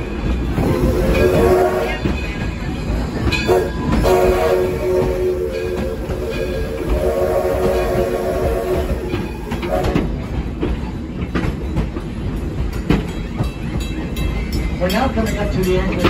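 A passenger train on the Edison line rolls across a bridge, a steady loud rumble with rhythmic clicks and wheel noise throughout, and a voice talks over it at times.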